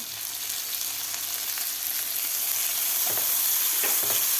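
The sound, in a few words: chopped tomato frying in a pan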